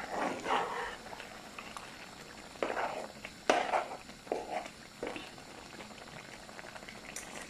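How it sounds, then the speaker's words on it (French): Turkey blanquette with leeks and cream bubbles in a pot at a steady simmer, with scattered soft gurgles and a few louder clinks and handling noises near the pan. "Et laisser encore quelques instants mijoter et arrêter le feu."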